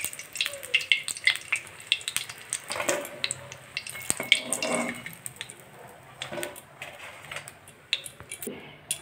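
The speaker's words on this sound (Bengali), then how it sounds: "বেগুনগুলোকে সুন্দরভাবে বেসনের মধ্যে চুবিয়ে তেলে ছাড়া হচ্ছে" Brinjal slices dipped in gram flour batter fry in hot oil, a steady crackling sizzle with scattered pops and splashes, close and continuous with no talk.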